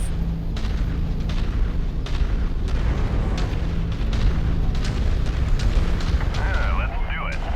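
Target blown up in a mech combat video game, a dense rumbling blast and heavy booming explosions over continuous battle noise, with a voice talking over it.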